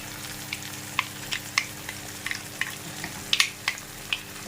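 Chutney ingredients fry in a pan with a steady soft sizzle, dotted with scattered sharp pops and crackles, close and without talk.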